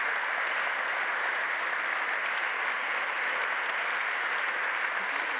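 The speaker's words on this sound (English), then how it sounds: "Please, a huge round of applause to my fantastic panelists." An audience at a sustainability conference in Hamburg applauds the panelists, a dense, steady wash of clapping that holds evenly throughout with no voices on top.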